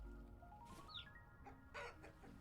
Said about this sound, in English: That was a chicken that was near here.